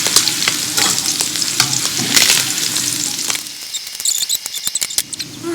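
Food frying in a pan, a loud close sizzle with busy stirring and scraping of a utensil, then sparser crackles and pops toward the end, no talk.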